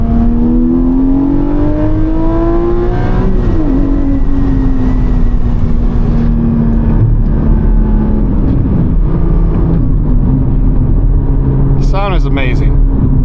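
A Porsche 718 Cayman's engine sounds loud and close from inside the car while driving, its tone rising and sliding through revs as someone talks over it.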